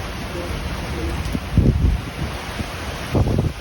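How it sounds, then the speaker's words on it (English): Strong wind gusts during a rainstorm outdoors, a broad roar over steady rain noise that surges twice, buffeting the microphone, with no speech. "Holy cow, here comes the wind."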